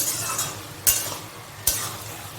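Morala fish curry with mixed vegetables stirred in a pan as the liquid cooks down, a low bubbling sizzle with two sharp clacks of the spoon against the pan.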